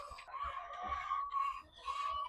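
Several chickens cluck and murmur continuously close by inside a henhouse, a steady chatter with rising and falling calls.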